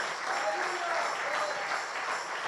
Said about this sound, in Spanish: Puede darle una ofrenda de aplauso al Rey de Reyes y Señor de Señores.